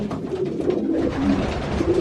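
Pigeons coo steadily in the large nesting boxes of a loft, a low, continuous murmur of overlapping calls from birds close by, with no talking.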